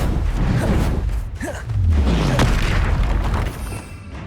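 Fire-blast spells crackle and boom in the Hogwarts Legacy video game, a loud, dense run of overlapping blasts and whooshes that swells and fades over several seconds without talk.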